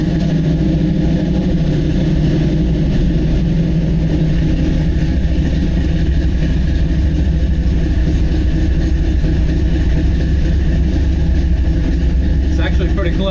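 A Chevy C10 with an LS3 V8 runs at a steady, loud idle close by, a deep continuous rumble that holds even throughout with no clear revs.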